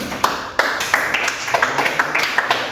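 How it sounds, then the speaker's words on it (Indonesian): A small class in a vocational high school math lesson claps hands, a few distinct, loosely rhythmic claps close by rather than a dense ovation, sounding alone. "Tepuk tangan dulu."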